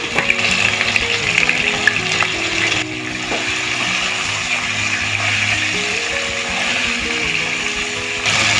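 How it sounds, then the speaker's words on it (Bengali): Potato pieces seasoned with salt and turmeric fry steadily in a hot pan, giving a loud, continuous sizzle with occasional stirring scrapes and no voices, for a cauliflower curry. "আলুতে পর্যাপ্ত পরিমাণে নুন আর হলুদ দিয়ে আলুটা ভেজে নেব।"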